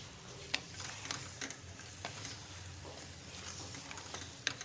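Potatoes fry with spices in a pan for aloo bhujia, a soft, even sizzle with occasional light clicks and taps from stirring, close and steady, with no speech.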